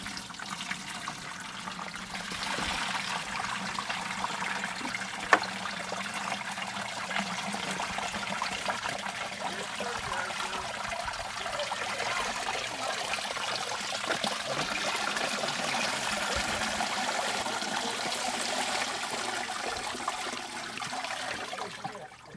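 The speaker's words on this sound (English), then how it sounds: "So that's gonna strain out when we pour it." Clay slurry pours through a strainer in a continuous, quiet watery trickle and splash that runs steadily for about twenty seconds, with one brief tap midway and no talking.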